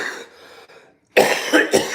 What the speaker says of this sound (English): It's just the stupid cough is lingering